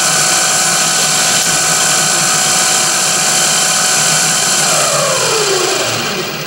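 A drill bores into tiny aluminium rivet parts, with a loud, steady whining machine tone that holds throughout and dips slightly in pitch near the end.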